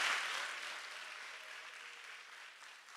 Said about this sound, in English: Please give them and yourselves a very, very warm round of applause